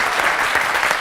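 A studio audience applauds on the set of a French TV impressionist competition show. Dense, steady clapping fills the whole moment at close, loud level with no break.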